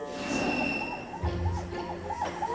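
An ambulance siren wails, rising and falling in a rapid repeating pattern, moderately close, over the low hum of stop-and-go congested traffic and a deep engine rumble.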